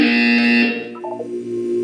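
A loud, harsh electronic buzzer in the video game Portal 2 blares for under a second, then cuts off, leaving softer tonal sounds trailing behind it.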